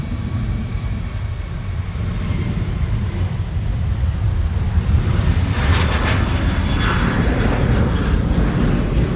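American 73, a heavy airliner, landing on runway 34 left at Sydney Airport, a loud continuous jet engine roar that swells slightly midway, with a rising whine, steady and close, no voices.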